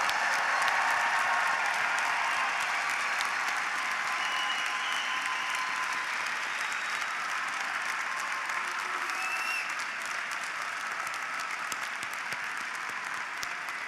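A large audience applauds steadily for a long stretch at a university graduate commencement ceremony, dense clapping filling the space without a break.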